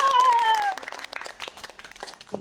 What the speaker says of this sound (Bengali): জোরে জোরে হাততালি দে